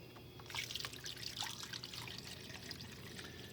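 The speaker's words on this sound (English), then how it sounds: "Just looks like I poured some water in. Nope, I poured vinegar in." Vinegar pours onto a rusty cast iron piece, a close trickling and splashing liquid stream that starts abruptly and continues steadily with small drips, no talk over it.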